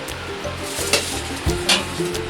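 Food fries in a pan during laddoo making, with a steady close sizzle broken by occasional stirring scrapes and a few sharper spatters.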